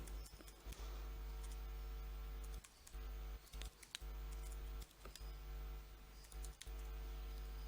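An email address being typed on a computer keyboard, with irregular bursts of quiet key clicks and brief pauses over a steady low hum, faint and close.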